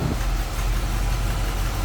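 A 1976 Dodge B200 Tradesman van's 360 V8 with automatic transmission idles steadily, a close, continuous low rumble that stays even throughout.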